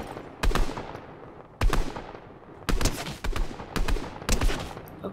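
Drum shotgun fire in Fortnite, a burst of sharp loud blasts coming in an uneven rhythm, roughly five or six shots with short gaps between them and no talk.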